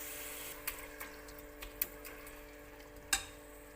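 Tomatoes with masala and a little salt cook in oil in a pan, giving a faint, steady sizzle broken by a few soft clicks and taps.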